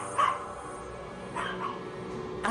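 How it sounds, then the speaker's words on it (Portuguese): A dog barks in a few short, separated bursts at moderate distance over a steady low background hum. "O Pongo começou a latir."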